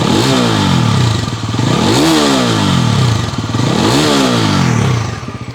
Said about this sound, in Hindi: एक बार मैं इसका रेव का साउंड आपको सुना देता हूँ।